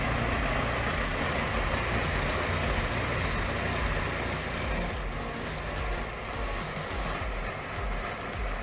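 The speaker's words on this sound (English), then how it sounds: "A bulldozer charges in, roaring to life as it fights to pull the vehicle out of the slippery trap." A bulldozer works to pull a Ural truck out of mud on a forest path, with a loud, steady engine roar under a thin, high whine that dips slightly halfway through. No voices are heard.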